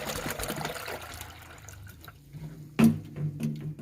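Water is poured into a pot of rice for a chickpea rice pulao, giving a short faint splash and trickle followed by a louder splash, with no talking.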